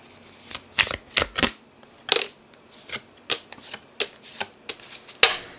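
Tarot cards are shuffled by hand up close, giving a series of about a dozen crisp riffling bursts with short pauses between them, loud and clear with no talking.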